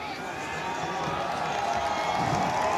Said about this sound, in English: this sellout crowd inside Marquet Stadium showing their appreciation as they come to their feet